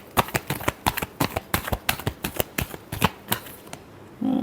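Tarot cards are shuffled by hand in a quick, crisp series of riffling slaps that pause briefly, stop, and give way to a short low rustle at the end.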